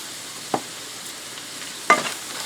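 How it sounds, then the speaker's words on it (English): Hamburger and onions frying over medium heat in a pan, a steady close sizzle broken by two brief scraping stirs. "Now I'm going to allow this to fry over medium heat."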